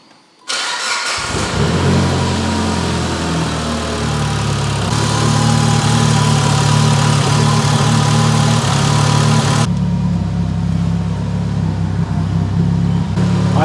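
A Mitsubishi Evo 8 engine cranks and fires after a brief quiet moment, then settles into a loud, steady, close idle as it warms up to bleed the cooling system, with no voices over it.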